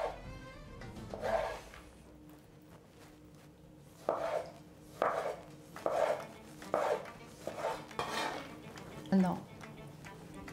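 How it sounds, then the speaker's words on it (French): Knife slicing tomatoes into thin rounds on a cutting board during meal prep, a series of distinct, fairly close chops spaced roughly a second apart, with faint background noise between cuts. "Donc pour l'âge, je vais les couper en fines rondelles."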